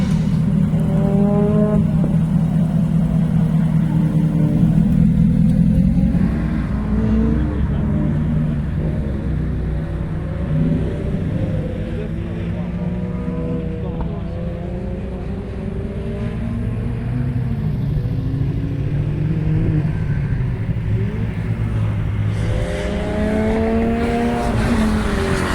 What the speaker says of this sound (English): on the track we've got the exhaust valves in loud mode